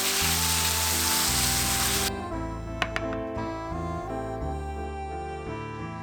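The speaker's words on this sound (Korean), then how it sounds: "이제 센 불로 볶아 마무리 해줄게요." Meat stir-fries over high heat in a pan, a loud, dense sizzle that holds steady for about two seconds and then settles into a quieter crackle with a couple of sharp clicks, heard close up.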